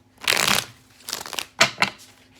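A deck of playing cards is shuffled up close, with a long riffle, a shorter riffle, then two quick bursts of card flutter, loud and alone.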